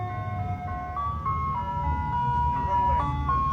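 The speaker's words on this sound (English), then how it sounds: "an old ice cream truck slowly drove past him" An old ice cream truck drives past playing its jingle, a thin, slightly wobbly tinkling melody over a low engine rumble, heard at moderate distance and fairly faint.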